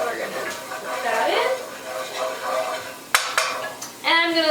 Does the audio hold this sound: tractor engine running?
no